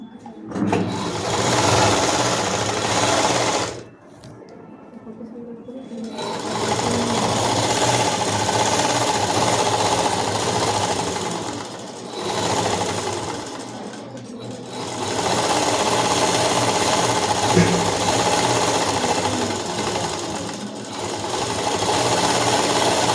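Sewing machine stitching a folded-under hem border on a long frock, a loud continuous motor whir in long runs broken by brief pauses, with faint talk in places.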